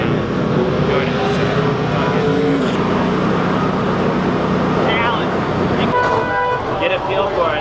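A late model race car engine roars loudly on the track at New Smyrna Speedway, its pitch rising and then dropping as it shifts gears amid dense, continuous engine noise and voices.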